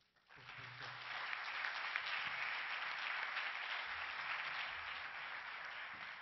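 Sustained audience applause at a panel-discussion event on people management, starting quickly and holding steady as a dense, broad wash of clapping with some faint voices underneath.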